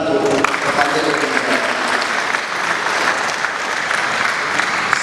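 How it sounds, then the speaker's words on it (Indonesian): A crowd claps together at a family seminar, loud, full applause that carries steadily for several seconds, filling the room without any voice cutting through. "Mari kita berikan tepuk tangan untuk kepanjang."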